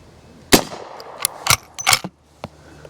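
Several sharp rifle shots from an Uberti Cimarron 1873 lever-action firing .38 Special rounds at an outdoor range, loud and close, irregularly spaced with a brief ringing tail after each report.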